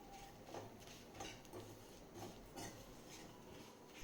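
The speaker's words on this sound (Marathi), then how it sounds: "ते मी आधी भाजून घेतलेलं नाही आहे, तेलामध्येच आता भाजून घेणार आहे" Grated dry coconut is stirred and roasted in oil in a pan for a traditional Vidarbha sambar vadi, heard as faint, steady sizzling with soft, regular scraping strokes of a spoon against the pan.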